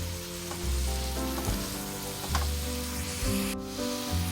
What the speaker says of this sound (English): we're going to keep cooking the spinach until it wilts all the way